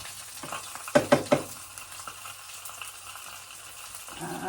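Fresh onions sautéing in a pan for fish escabeche give a soft, steady sizzle, with three sharp stirring clatters near the start and quieter scraping afterward.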